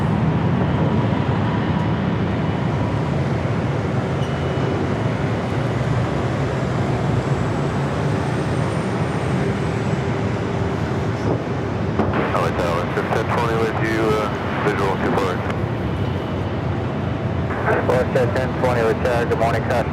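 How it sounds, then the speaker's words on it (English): A Hawaiian Airlines Airbus A330-200 jet roars on takeoff from runway 24 left at Los Angeles airport, a loud, sustained broadband engine rumble filling the scene, with radio chatter breaking in over the later part. "We do have a Hawaiian A330-200, number 2 for takeoff on the 24 left."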